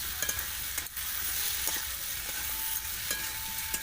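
Cumin paste goes into a hot pan for a homestyle Bengali snakehead fish curry, with a steady close sizzle and a few light stirring scrapes.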